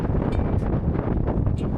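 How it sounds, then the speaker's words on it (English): Strong wind blows across the hilltop on Gwanaksan in Seoul, buffeting the microphone with a rough, close, continuous roar and brief gusty bursts. "It's quite windy up here, as you can probably hear."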